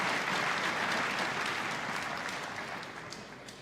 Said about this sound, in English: Muted applause for the match next door